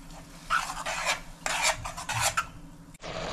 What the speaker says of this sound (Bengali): এই মশলাটা আমি এই জলটার সাহায্যে একটু কষতে থাকবো